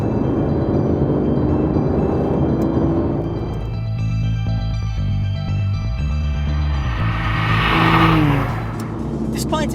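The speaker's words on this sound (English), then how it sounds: "The V12 Vantage simply devours the road ahead of it, and all with the amazing sound of that V12 at work." An Aston Martin V12 Vantage's V12 engine pulls hard on the road, its loud, steady roar climbing in pitch with gear-change dips and a rising surge near the end, with a voice talking over it.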